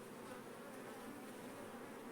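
Honey bees at a traditional log hive make a dense, continuous buzzing hum, steady and quiet throughout, with no voices.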